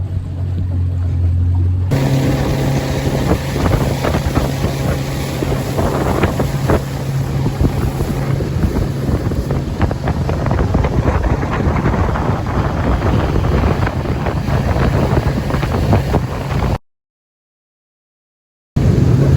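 A small motorboat engine drones steadily over open water, not yet on plane, with wind buffeting the microphone, loud and continuous, then cutting out abruptly before resuming briefly.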